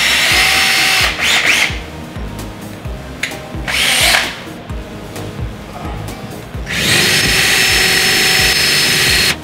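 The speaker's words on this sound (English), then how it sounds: "I'm gonna take this quarter inch drill, drill this hole through there" Quarter-inch power drill boring a pilot hole while fitting dust collection ductwork, loud whining bursts of drilling that start and stop several times, close up.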